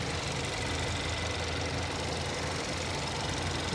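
A car engine idling with a steady, even rumble and faint ticking, close by and alone without talk.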